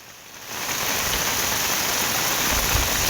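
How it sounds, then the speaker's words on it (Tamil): Steady, dense rain pours down across Ambasamudram and Kadayam, a broad even hiss that swells within the first half second and then holds loud and unbroken with no voices. "திடீரென பரவலாக மழை பெய்து வருகிறது"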